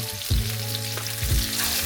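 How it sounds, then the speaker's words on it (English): Steady frying sizzle as fish sears in a hot pan of oil, with two louder bursts of crackling spitting as food hits the oil, close and continuous throughout. "You're gonna hear that sizzling"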